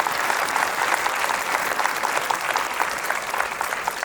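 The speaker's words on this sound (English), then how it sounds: "I think that deserves a round of applause" Audience applause at a live talk event, steady clapping from a moderately sized crowd lasting throughout, slightly distant and even, with no talking over it.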